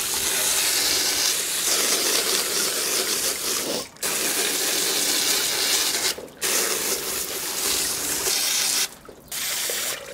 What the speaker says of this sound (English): I'm going to sort of pressure wash these with the hose